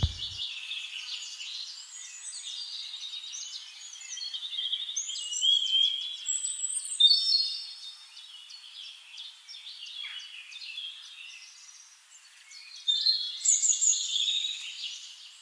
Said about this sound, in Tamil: இது மக்கான் பறவையாமா